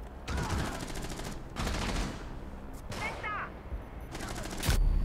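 Gunfire in Rainbow Six Siege during a pistol challenge on the Dust Line map: several rapid bursts of shots with gaps between them, loud and close, while a voice speaks between them.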